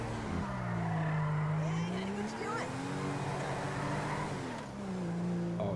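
A car drifts in GTA V, the engine droning and rising in pitch as the tires squeal through a slide, continuous and fairly loud, with game ambience behind it.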